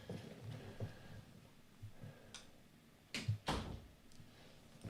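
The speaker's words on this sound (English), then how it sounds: "Oh, Steve, you need to close the door" A door pushed shut in a room, giving two close thuds near the end after faint shuffling and handling sounds, with no talking.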